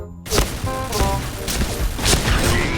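Shotgun fire in a video game, a rapid burst of about five loud blasts roughly half a second apart after a short quiet start, each with a sharp crack and booming tail.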